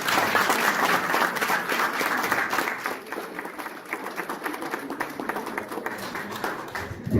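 An audience at a university conference on constitutional control claps together in sustained applause, a dense, even wash of hands that thins a little toward the end.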